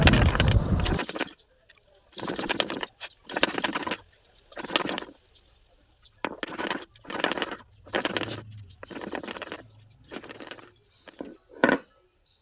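Onion, ginger, garlic, whole chillies and cumin are ground on a shil nora grinding stone, heard as a series of rhythmic rough scraping strokes with short pauses between, close and fairly loud, with no talking.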